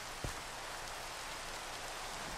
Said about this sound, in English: Rain's a little annoying